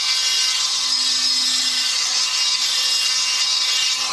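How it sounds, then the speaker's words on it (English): A fire agate stone is ground on a rotary tool, giving a steady, loud, continuous high-pitched grinding whir with no breaks and no talking. "I'm going to continue to grind through and grind through."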